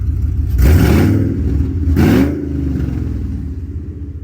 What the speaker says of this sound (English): let y'all have a listen to how it sounds with just the collectors